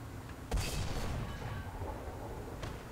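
A single tank cannon shot from a T-34E medium tank in War Thunder, one sharp boom followed by a rumbling tail under steady engine noise, with a fainter thud near the end.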